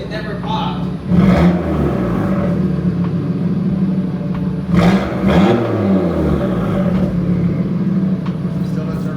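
An Audi RS3, Stage 1 on E85 with an AWE Switchpath exhaust, revs hard in two big surges, each swelling then settling into a steady loud rumble, with people talking over the engine.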